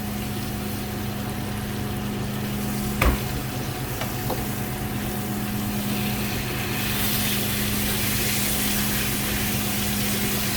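Butter sizzles steadily in a hot pan for steak, a loud, continuous frying hiss with a low hum beneath it and a brief clank partway through, with no talking.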